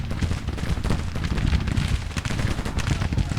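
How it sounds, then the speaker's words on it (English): Artillery shells hit enemy troops in a Civil War strategy game battle, a dense, continuous rumble of cannon fire and explosions that stays loud and steady throughout, with no one talking. "we can see that our artillery shells are hitting the enemy"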